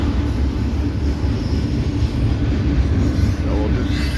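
A northbound manifest freight train carrying autoracks on the Sioux City subdivision rolls past as a steady, loud low rumble of railcars, with a faint high wheel squeal near the end.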